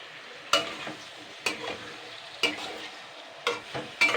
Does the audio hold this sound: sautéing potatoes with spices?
yes